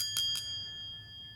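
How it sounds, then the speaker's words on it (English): A hard metal transmission spline part is struck twice in quick succession and rings like a bell, with clear high tones that hang on and slowly fade in a quiet room. "It rings just like a bell"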